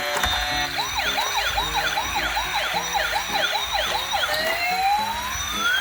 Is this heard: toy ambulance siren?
yes